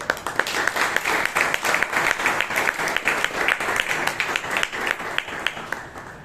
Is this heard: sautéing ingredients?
no